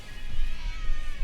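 A cat meows close into a microphone, a short clear call over low background rumble.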